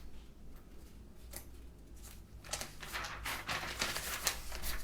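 Paper script pages being turned during a play performance, with rustling, crinkling sounds that build from soft to louder and busier over a few seconds, close and alone against a low steady hum.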